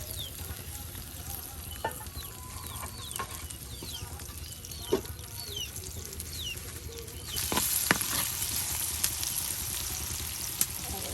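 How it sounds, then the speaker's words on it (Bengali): Onions fry in a pan in a home kitchen, a soft continuous sizzle with scattered clicks and stirring knocks, growing busier toward the end, with faint voices in the background. "দেখুন এই যে এখন আপনার পেঁয়াজগুলো ভেজে নেওয়া হচ্ছে"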